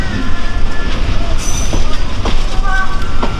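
The Kurigram Express pulling out of Kurigram station, with a loud, steady rumble of train wheels and carriages, occasional squeals and clatter, and a faint murmur of voices.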